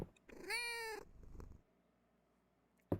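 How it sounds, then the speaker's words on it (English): Cat in Fields of Mistria giving one clear, close meow, then a fainter second sound and a soft click at the end, with no talk. "This is my cat."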